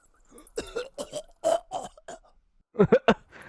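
A harsh, rasping cough effect with a few ragged bursts, ending in a sharp cluster of hacking coughs up close.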